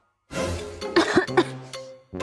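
A close burst of harsh, hacking coughs, several in quick succession, followed by a throat-clearing rasp.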